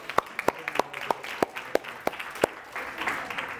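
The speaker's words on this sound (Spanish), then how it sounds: "Fantástico, un aplauso." A small group at a management training workshop gives sparse, scattered claps, isolated close hand slaps at an uneven pace, trailing into murmuring voices at the end.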